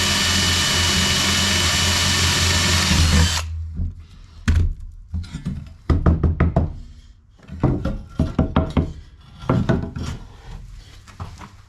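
A power drill whines steadily and loudly drilling into steel for an engine bracket, then cuts off, followed by a series of clattering knocks and scraping metallic handling sounds.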